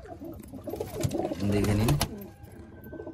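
Old-generation Madras pigeons in a private collection coo in a loud, close, throaty warble that swells through the middle, while someone talks briefly over the birds.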